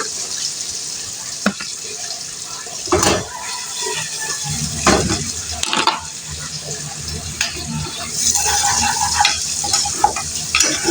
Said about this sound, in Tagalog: Then, onion. Red onion. Then, mix it again.